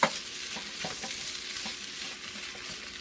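Salted vegetables for fried rice stir-fried in a pan, with a steady sizzle and soft scraping stirs and clinks recurring through the short stretch, close and fairly quiet.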